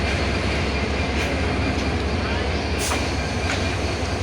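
The 767 Dolanchapa Express, hauled by a locomotive from the 2930 class, pulls into Parbatipur Junction as a loud, steady rumble of rolling wagons fills the platform continuously from start to finish.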